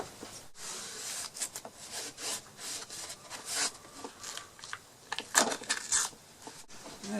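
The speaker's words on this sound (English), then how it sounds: "I'm going to cut the same amount off the other piece." A handsaw cuts a wooden piece for a chicken coop composter, giving close, rhythmic rasping strokes in uneven bursts, with a few sharp clicks near the end and no talking.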